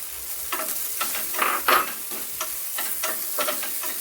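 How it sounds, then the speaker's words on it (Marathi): Sago pearls frying in ghee with dry fruits, a close sizzle with repeated scraping stirs in short bursts, and no talk. "आता हा जो साबुदाणा आहे तो याच्यामध्ये थोडासा फ्राय करून घेऊया"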